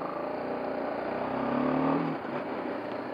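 A BMW G 310 GS motorcycle engine revs up strongly, rising in pitch toward a peak before easing off, heard close from on board during a test ride.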